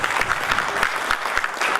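An audience applauds to welcome a speaker at a talk, steady dense clapping from a medium-sized crowd, moderately loud and continuous throughout.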